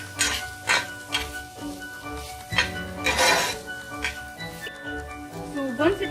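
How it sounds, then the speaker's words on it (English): Onions are stirred and roasted in a pan with a metal spoon, giving scattered scraping clinks and knocks against the pan under a soft sizzle while someone talks. "Stir it well and roast it until the onions have become brown."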